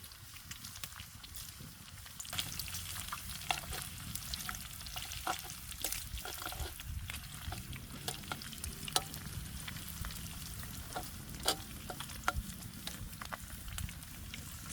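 Bacon and salmon sizzle steadily over a bed of campfire coals outdoors, a soft continuous frying hiss with scattered small pops and crackles.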